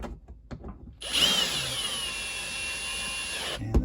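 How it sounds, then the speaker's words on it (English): A power drill with a drill bit drives screws while a wireless light switch is installed in an RV: a few faint clicks, then a steady high whine for about two and a half seconds before it stops abruptly. "I'm going to bring them tight with the drill bit, but not too tight so that you don't strip the threads."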